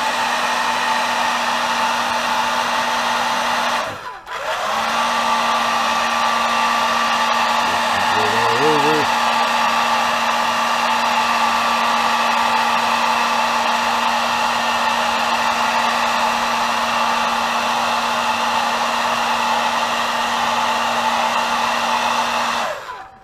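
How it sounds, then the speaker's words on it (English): A hair dryer blows steadily at close range over a custom-painted bluegill crankbait fishing lure, a constant whirring hum, cut off briefly near the start, then running on without a break. "So I just have my blow dryer sitting right here."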